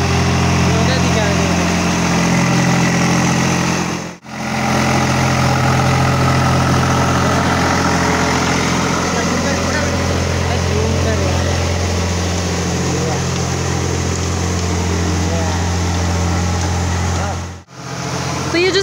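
A tractor engine idles with a steady low rumble, a constant drone and a couple of brief dropouts.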